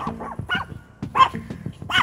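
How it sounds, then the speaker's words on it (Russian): Two dogs outdoors in a forest bark in short, close, loud bursts, several barks in quick succession with brief yips between them. "попросили выпустить собак, потому что вдруг они будут лаять"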